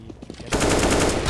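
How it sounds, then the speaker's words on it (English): Rapid, loud P250 pistol fire in a Counter-Strike match, a dense burst of shots starting abruptly after quieter game sounds and continuing to the end. "Matt getting a triple P250 for last headshot onto the"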